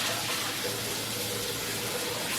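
Hot water runs from a kitchen faucet in a steady, close, hissing gush that continues without a break.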